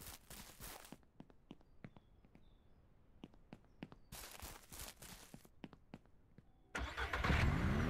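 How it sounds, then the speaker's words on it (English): A car engine in the Ranch Simulator video game starts and revs in loud bursts, separated by spells of sharp, evenly spaced footstep-like clicks, and ends on a sustained rough engine roar. "this car has some power"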